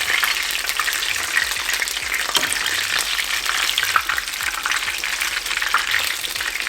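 A fish fillet fries in deep hot oil for pub-style fish and chips, a loud, dense, continuous bubbling sizzle that holds steady throughout without any voices.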